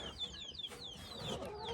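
Backyard chickens clucking and chirping close by, a busy overlapping chorus of short calls over faint background noise.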